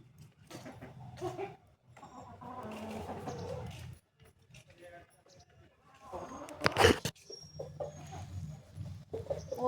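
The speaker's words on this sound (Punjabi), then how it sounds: "ਆਪਾਂ ਇਹ ਮੁਰਗੀਆਂ ਰੱਖੀਆਂ ਹੋਈਆਂ ਨੇ ਇਹ 10 ਮੁਰਗੀਆਂ 5-6 ਅੰਡੇ ਰੋਜ਼ ਦੇ ਦਿੰਦੀਆਂ ਨੇ" Ten backyard laying hens give soft, intermittent clucks close by amid scattered speech and household movement, with one louder burst of noise near the end.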